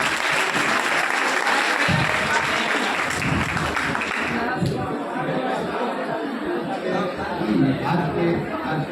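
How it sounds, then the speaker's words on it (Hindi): An audience at a college induction ceremony applauds steadily, sustained clapping with murmuring chatter that softens slightly partway through. "आपकी तालियां बहुत कम आ रही हैं।"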